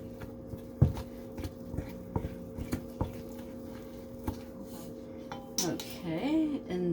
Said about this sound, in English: Stir that up so it gets mixed in.